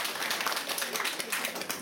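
Applause from a room of colleagues at a staff meeting: dense, steady clapping from many hands throughout, fairly loud and continuous with no gaps.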